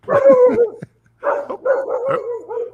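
A dog barks and yips close by in two short bursts with a brief gap between them, indoors during a live stream, with no talking over it.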